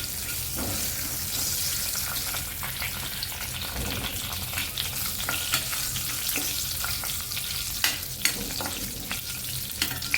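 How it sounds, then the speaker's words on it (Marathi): Onion, tomato, cashew, garlic and ginger masala paste sautéing in oil for palak paneer, a steady, close, dense sizzle with occasional sharper spatters and stirring clicks, no voices. "मसाला वाटून घेतलेला तो सुद्धा घालून घेऊया. तेल सुटेपर्यंत आपण परतून घ्यायचं."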